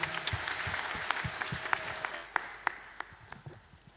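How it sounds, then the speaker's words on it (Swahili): A church wedding congregation applauds during the exchange of vows, with scattered, fairly soft clapping and a few sharper individual claps standing out over several seconds. "Makofi ya Andy iko wapi?"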